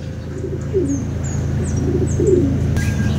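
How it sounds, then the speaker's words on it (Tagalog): Racing pigeons returning from a training flight coo in soft, repeated low calls, with a few faint chirps above a steady outdoor background. "Ayan, at may mga nagbabalikan na nga, nahihila na sa south ang mga ibon"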